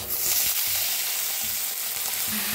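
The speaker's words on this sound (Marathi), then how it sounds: "तेल बी गरम झाले, त्याच्यात आपण काय करूया, पहिला आपण भोपळा भाजून घेऊया।" Bottle gourd pieces fry in hot oil, giving a loud, steady sizzle and crackle that fills the whole moment, with faint low knocks from stirring.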